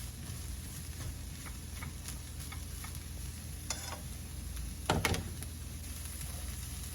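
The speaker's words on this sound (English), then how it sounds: "start frying up your cabbage" Steady sizzling of cabbage frying in a pan, a constant hiss with occasional stirring scrapes and a louder clatter partway through.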